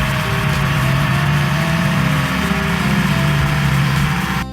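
A steady tractor engine drones continuously at close range, a low rumbling hum with no pauses and no voices.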